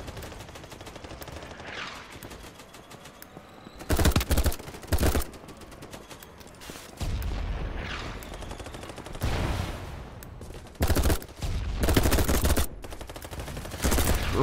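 Gunfire in a first-person shooter video game, with bursts of rapid automatic shots in several loud clusters over a quieter background of game ambience.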